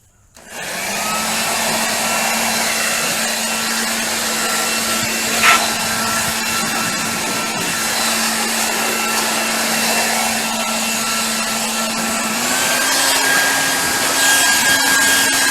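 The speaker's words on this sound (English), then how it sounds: "Blow a bunch of that stuff out of there." Compressed air hisses steadily for about fifteen seconds as it blows debris out of a Jeep CJ5 body under repair, with a constant loud rushing tone and one small knock partway through.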